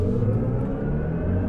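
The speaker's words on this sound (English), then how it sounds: "he's composed a new sound for each mode, and we're going to hear that when we accelerate down the road" BMW iX electric SUV accelerating with a synthetic drive sound composed by Hans Zimmer, a steady low humming rumble that stays loud and close for the whole brief stretch.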